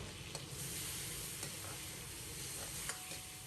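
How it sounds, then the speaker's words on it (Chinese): Aromatics frying with soy sauce in a hot wok where pork belly has rendered its fat: a steady, dense sizzle with a few brief stirring scrapes, close and continuous, no voices. "生抽、酱油炝锅，提前提味；老抽增加底色。"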